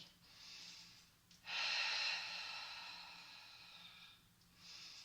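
Slow, audible breaths drawn in and let out during a Pilates exercise, soft and close, with a longer exhale swelling in the middle and another breath starting at the end.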